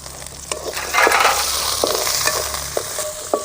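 Garlic sizzles and crackles in hot oil, with a few sharp clinks and scrapes of a utensil stirring the pan.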